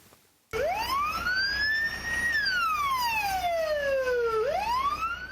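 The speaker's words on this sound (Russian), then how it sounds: "К месту происшествия подъехала карета скорой помощи." An ambulance siren starts abruptly, its tone rising, holding, then sweeping slowly down and back up, close by with no talk.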